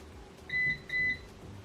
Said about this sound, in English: press and hold L and R at the same time for 3 seconds until you hear a beep